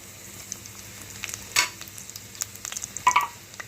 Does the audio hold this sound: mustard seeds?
yes